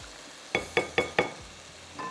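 Spiced masala paste frying in a pan for methi fish, four sharp spatula scrapes and clinks in quick succession over a soft steady sizzle, close by and with no talking.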